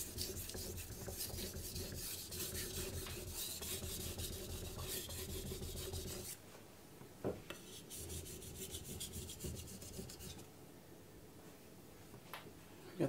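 A Mcusta Zanmai gyuto knife is sharpened on a coarse Cerax #380 whetstone, giving a steady gritty rasping scrape. The strokes run continuously for about six seconds, then break into shorter, quieter passes.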